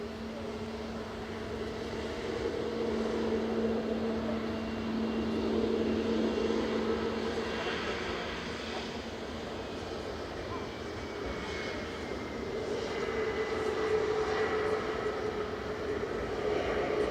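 An 11-year-old easyJet A320 touches down on runway 05 right at Manchester Airport, its engines and rollout making a broad, steady roar at a distance that swells and eases slightly over the whole stretch.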